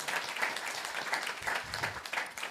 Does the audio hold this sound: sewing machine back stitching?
no